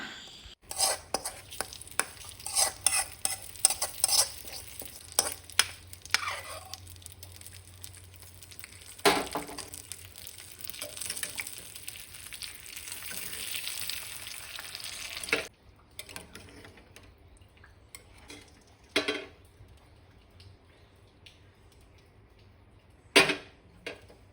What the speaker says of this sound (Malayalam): നല്ലൊരു ഗോൾഡൻ ബ്രൗൺ കളർ ആകുന്നത് വരെ നമ്മൾ വറുത്തെടുക്കണം